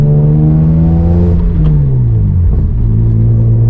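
A loud engine drones with a strong low tone that drops in pitch as the car eases off, close and rumbling, heard through an open window.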